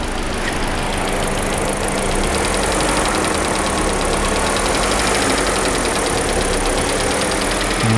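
A crossover car's engine idles steadily with a faint, even knocking and a ringing heat shield, close and continuous for the whole stretch with no talking.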